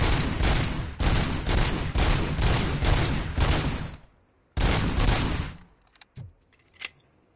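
Loud rapid gunfire in the Robocop: Rogue City video game, repeated bursts for about four seconds, a short pause, another burst, then a few scattered single shots.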